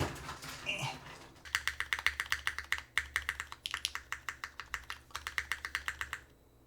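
Steady typing on a Keycult 1800 mechanical keyboard fitted with Nixie switches, a rapid run of crisp, close keystrokes in bursts with short pauses, faint at the start before the keys begin.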